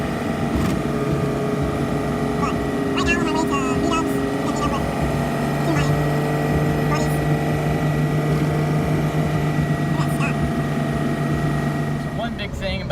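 A first-generation diesel truck's stack exhaust rumbles loudly and steadily throughout, a deep droning note with a constant low growl.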